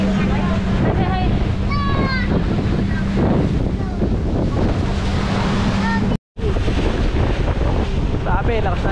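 From a boat approaching an island, strong sea waves and heavy wind buffet the microphone in a constant loud roar, with voices and whoops over it and a brief cut near the end.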